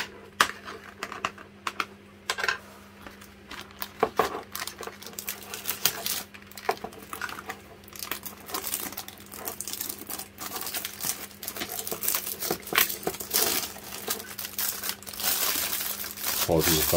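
Plastic packaging of a marine multi test kit for reef tank water being cut open, with crinkling, snipping and tearing in irregular bursts, close and fairly loud, later growing denser.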